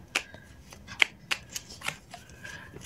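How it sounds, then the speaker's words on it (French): Cards drawn and handled from an oracle deck, giving a few sharp papery flicks and snaps spaced across a quiet moment, close and fairly soft, with no talking. "je vais tirer une dernière carte pour conclure"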